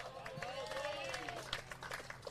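Crowd applause at a women's fours quarter final of the World Bowls Championships, Australia against Hong Kong: a steady patter of clapping from spectators around an outdoor green, with a commentator's voice over it.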